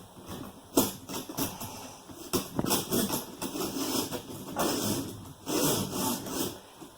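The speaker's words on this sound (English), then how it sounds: "So I'm going to come through this channel here, which we normally never get access to. And scrub back and forth" A channel on an SK 150 knitting machine gets scrubbed back and forth in rhythmic rasping strokes, close and clear, with brief pauses between bursts.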